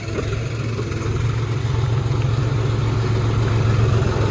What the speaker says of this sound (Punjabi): ਬਾਕੀ ਆ ਗਿਆ ਸ਼ੇਰੂ ਲੈ ਕੇ ਟਰੈਕਟਰ